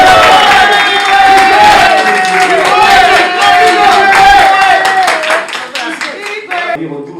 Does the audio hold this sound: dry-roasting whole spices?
no